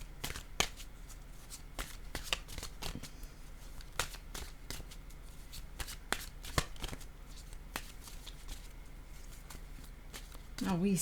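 Oracle message cards being shuffled by hand, a long run of crisp riffling snaps and soft flutters at moderate loudness, with a brief voice at the very end.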